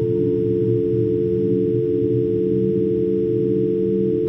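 A steady, unbroken telephone line tone hums on without change for several seconds, with no voices.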